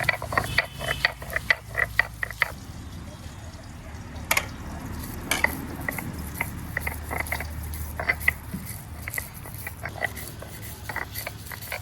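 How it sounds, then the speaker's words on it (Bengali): Mustard seeds, poppy seeds and ginger being ground into a paste, heard as a close, steady run of rapid mechanical clicks and rattles with a low grinding undertone, no talking. "আগে সর্ষে, তারপর দিলাম পোস্ত, এখন দেবো আদা। এই তিন জিনিসেই আমি এখন বেটে নেব।"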